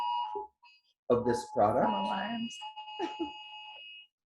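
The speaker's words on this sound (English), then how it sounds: "So excuse our little fire alarm or whatever's going off." A fire alarm or similar electronic alarm beeping during an indoor live Q&A, thin steady high tones running under a person's nearby talking.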